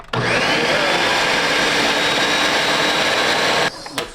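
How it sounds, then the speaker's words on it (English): A kitchen blender whirs loudly and steadily while blending avocado pudding, a constant motor whine with churning that runs for several seconds before cutting off abruptly, followed by a brief clatter. "You gotta get it in the blender"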